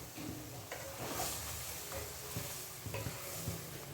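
Powdered spice masala with turmeric sizzling and being stirred in a pan for a crab curry after water is added, a steady soft frying hiss with scraping stirs, quiet and close.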